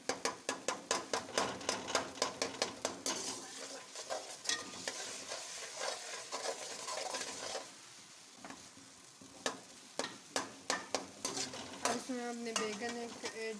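Tomato masala for charsi baingan sizzles in a pan while a spoon scrapes and clacks against the metal in quick rhythmic strokes, pausing briefly, then resuming with sharp clinks over the constant frying hiss.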